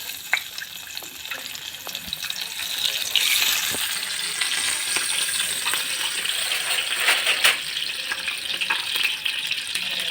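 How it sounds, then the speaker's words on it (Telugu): Eggs frying in a pan on a stove, a continuous crackling sizzle with bright spattering pops, steady and close throughout. "గుడ్లు వేసుకొని వేయించుకోవాలి"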